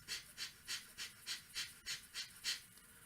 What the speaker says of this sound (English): then you can do like a breath of fire